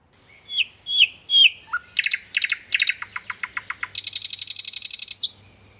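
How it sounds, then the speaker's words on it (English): A nightingale sings a varied phrase near the listener: a few clear whistled notes, then buzzy rapid bursts and a fast rattling trill, loud and crisp against a quiet background. "this song of a nightingale"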